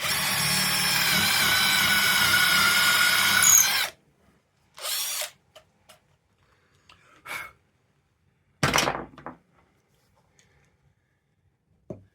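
A power drill boring a hole into a wooden block for a work-from-home desk leg, one loud sustained whine of nearly four seconds, then silence broken by a few short bursts.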